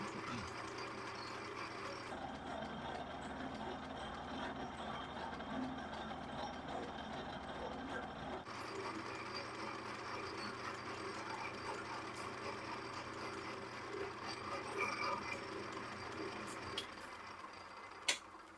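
A vintage metal lathe on auto feed, turning a rusty old bolt and peeling off metal curls, drones steadily and fairly quietly throughout with a constant mechanical hum and a brief knock near the end.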